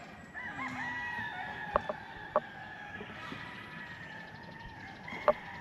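Chickens on a rural property cluck and a rooster crows at a distance, faint against steady outdoor ambience, with a few sharp knocks standing out.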